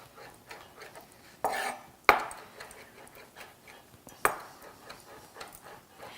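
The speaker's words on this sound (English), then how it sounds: "This is a great way to chop herbs, by the way. This is called a mezzaluna." A mezzaluna rocks through fresh sage leaves on a cutting board for cornbread biscuits. Sparse, sharp knocks of blade on board sound close by, with a few louder clacks between quieter, irregular taps.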